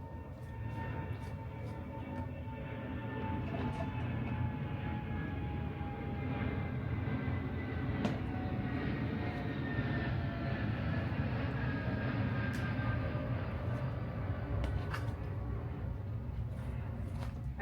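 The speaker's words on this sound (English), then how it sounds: "Please hold for plane." Airplane passing overhead outdoors, a long steady rumbling drone with a faint whine that swells slightly in the middle and stays distant, with no voices.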